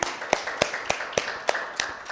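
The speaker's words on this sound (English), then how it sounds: "And so a round of applause for all of us." A single person clapping slowly during an online regulations review meeting, about eight sharp claps in a steady rhythm, close and clear over faint room noise.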